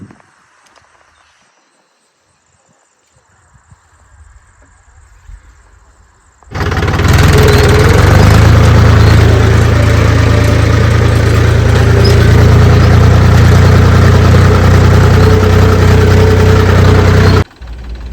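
A loud, steady tractor engine rumble starts abruptly after a few quiet seconds, holds a constant idle for about ten seconds, then cuts off.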